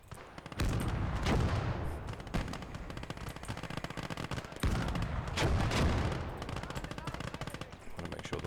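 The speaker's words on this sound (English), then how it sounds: "Mortar is actually firing." Mortar rounds and rifle and machine-gun fire crackle through a World War II battle in Call to Arms: Gates of Hell, with repeated heavy bursts and thumps spread across the scene, moderately loud with no voices.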